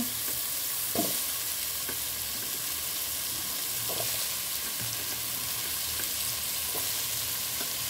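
Pumpkin, both kinds of gourd and eggplant slices sizzle steadily in a hot pan as they are sautéed, a dense continuous fry hiss with a few soft scrapes of stirring, close and even, with no voices.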